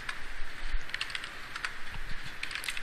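Fingers type a command on a computer keyboard in a 3D modelling program, making a quick, light run of close key clicks over a steady room hiss without any talk.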